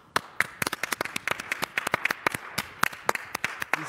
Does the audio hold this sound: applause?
yes